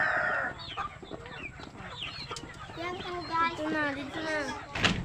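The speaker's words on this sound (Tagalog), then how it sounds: "Ito naman po yung iba pang chicken natin. Malaki. Maraming chicken." Chickens cluck and chatter in a pen at close range, a run of rising, pulsing calls with brief squawks, while a person speaks over part of it.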